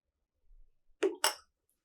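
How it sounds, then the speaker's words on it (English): A coin dropped into a glass of water, with a soft touch followed by two sharp close clinks in quick succession, then quiet. "So let's insert the coin"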